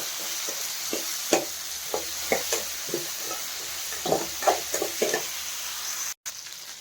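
Soaked lentils fry in a pan under a soft continuous sizzle, broken by a dozen or so light scraping stirs at an uneven pace. The sound stays close and fairly quiet, then cuts out briefly near the end.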